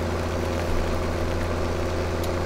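Steady tractor engine in Farming Simulator 2017, hauling a trailer: a continuous low diesel drone with a constant rumble, heard alone and close.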